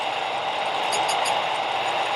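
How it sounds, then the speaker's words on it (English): A model Union Pacific gas turbine locomotive with a sound decoder runs steadily, giving a continuous, even roar with a faint high whine on top, alone and unbroken throughout. "more thunderous roar of that turbine engine as it's running."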